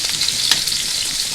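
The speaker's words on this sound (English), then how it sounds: "You can go straight into that same boiling water I did the potatoes in" Curly kale plunged into a pot of boiling water already used for potatoes, giving a steady, close hiss and bubbling sizzle with no talk.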